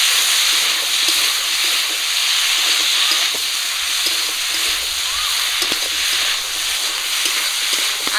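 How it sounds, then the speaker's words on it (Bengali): A paste of ginger, garlic and cumin fries in hot oil with a continuous, loud, close sizzle and hiss and a few faint clicks of stirring. "আদা জিরেটা দিয়ে একটু ভাজা ভাজা করে নিয়েছি।"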